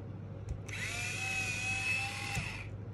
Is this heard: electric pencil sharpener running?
yes